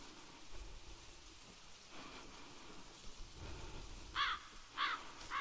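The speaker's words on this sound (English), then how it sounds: "At least the thunder is not extremely loud." Rain and thunder in the Finding Bigfoot video game's forest: steady rain patters throughout while low thunder rumbles roll beneath it, and a couple of short, sharp calls ring out near the end.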